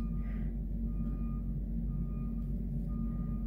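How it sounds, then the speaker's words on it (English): Heavy trucks rumble steadily beside a very busy road, with a faint, intermittent reversing beep rising above the constant low traffic roar; no voices. "I'm right beside a very busy road and we've got some trucks coming in"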